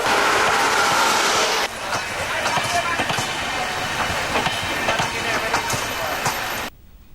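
A passenger train pulls out of Thiruvalla railway station, a steady broadband rumble and clatter with murmuring voices blended in, louder at first, then continuing evenly before cutting off abruptly.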